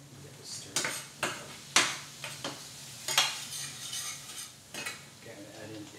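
Scallions being stirred in a hot pan with a utensil: a handful of sharp metallic scrapes and clinks over a faint steady sizzle, close by, with no talking.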